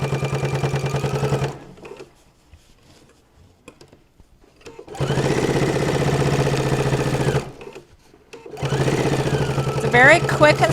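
A sewing machine stitches around a fabric notebook holder in three loud, steady runs of rapid mechanical chatter, separated by short pauses of quiet handling.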